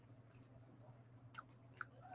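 Quiet close-up chewing of crunchy edible crickets, with a few soft crunches and small bites, no talking.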